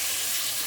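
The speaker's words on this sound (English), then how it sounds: "So now I'm going to start putting in the chicken." Chicken pieces frying in oil in a pan for a one-pot Tuscan chicken, giving a steady, close, even hiss of sizzling with no talk.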